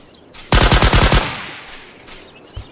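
Bursts of submachine gun fire in a Thai-language open-world action game set at a military camp, a rapid run of about seven loud shots in under a second, followed by a fading tail and one faint later thump.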